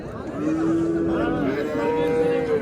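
A cow moos nearby at a cattle market in Kattaqo'rg'on, one long drawn-out call that wavers in pitch over a murmur of market background noise.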